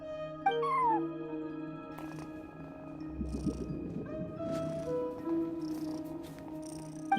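A cat at a front desk in a video game purrs in a low rumbling loop while meowing, along with soft tonal game music in the background.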